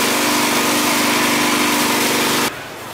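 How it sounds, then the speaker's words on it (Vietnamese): A Takeo TK55 chopper with a petrol engine shreds greens and duckweed, running as a loud, steady high-pitched engine whine with grinding noise that cuts off sharply near the end, leaving a faint idle. "Đầu tiên là máy thái mịn Takeo TK55 sử dụng động cơ xăng để băm rau bèo ra."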